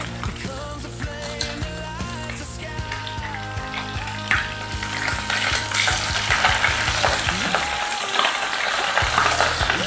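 Fish fries in hot oil in a home kitchen, sizzling and crackling loudly and continuously, with sharper popping spatters and a few clinks of a utensil as the pieces are turned.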